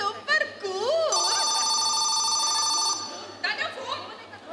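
A telephone rings steadily for about two seconds amid a Konkani Father's Day skit staged by a church association, with children's voices and chatter before and after the ringing.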